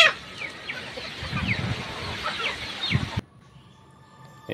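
Native chickens on a poultry farm cluck and chatter close by over a busy outdoor background for about three seconds before the sound cuts to near silence.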